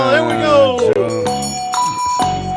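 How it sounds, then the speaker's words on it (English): A bell rings for the winner of a radio quiz show on air, a bright sustained chime layered under loud, continuous talk from the studio host. "Give him the bell."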